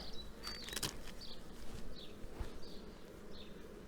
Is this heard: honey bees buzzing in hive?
yes